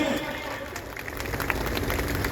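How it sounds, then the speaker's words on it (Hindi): An outdoor Republic Day gathering in Triveniganj, Supaul applauds anganwadi workers with a dense, continuous wash of crowd clapping that sounds somewhat distant and steady. "एक जोरदार तालियां होनी चाहिए आंगनबाड़ी की इन दीदियों के लिए।"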